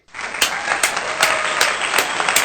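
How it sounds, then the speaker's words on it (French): An audience applauds a president of Burkina Faso at a public gathering, a steady loud wash of many hands clapping that starts abruptly and continues throughout, with regular sharp bursts layered on top. "Ah oui, il mérite ses applaudissements."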